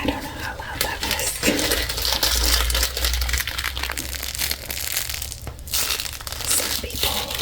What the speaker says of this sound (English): Some people really like the crinkly plastic sounds.